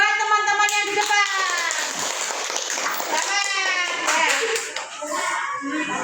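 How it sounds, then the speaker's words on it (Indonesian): Schoolchildren in a classroom clap for classmates presenting their group designs at the front, a lively patter of hands mixed with excited young voices chattering over it throughout. "silakan beri tepuk tangan buat teman-teman yang di depan"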